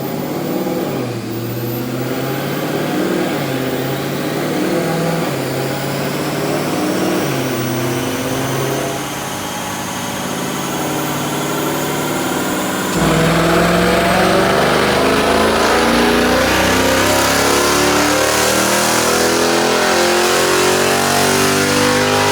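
A Dodge Charger fitted with a Corsa exhaust and Corsa Apex cold air intake runs on a dyno. The engine drones and climbs steadily in pitch, then grows louder, building through a long pull with a rising howl.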